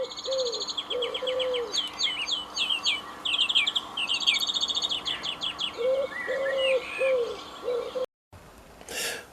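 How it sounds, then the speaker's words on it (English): Recorded birdsong played back from a model train layout: small birds chirp and trill in busy, overlapping song while a wood pigeon coos repeatedly underneath, steady and clear, cutting off abruptly near the end. "leave that play with little birds singing there and wood pigeons"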